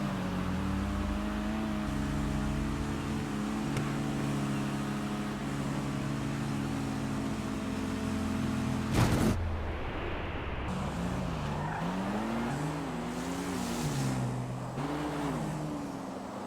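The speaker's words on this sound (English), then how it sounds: "He spins the tires, and it was just over from the start." No-prep drag race cars launching with tires spinning, engines droning steadily before a sharp burst, then rising and falling revs as the cars pull away, loud and close.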